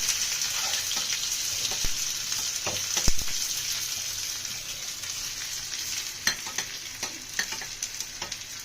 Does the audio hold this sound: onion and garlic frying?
yes